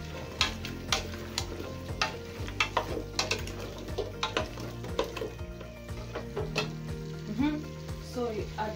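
Succotash (githeri) seasoned with curry powder, ginger and black pepper sizzles steadily in a pan while a utensil stirs and scrapes through it, with scattered clinks against the pan and no voices.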